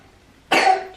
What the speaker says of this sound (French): Tu tousses mon amour.